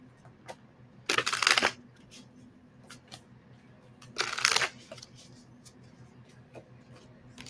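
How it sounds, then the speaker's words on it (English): Oracle cards are shuffled in two quick riffling bursts, a second apart from each other, with soft taps and handling noises in a quiet room between them. "Let me just start shuffling here."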